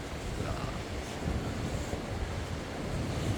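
Sea waves break along the East Sea coast at Samcheok beside the Saecheonnyeon coastal road, a continuous full surf roar mixed with gusty wind buffeting the microphone.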